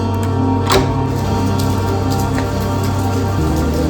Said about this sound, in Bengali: এই যে অলরেডি অন্ধকার হয়ে গেছে, বৃষ্টিও হচ্ছে ভালোই।